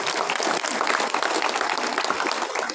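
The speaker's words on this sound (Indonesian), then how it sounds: "saya mengajak kita semua untuk beri tepuk tangan untuk kalian semua" Students applaud at a school ceremony marking Youth Pledge Day, a loud, dense wash of clapping from a large crowd that holds steady throughout.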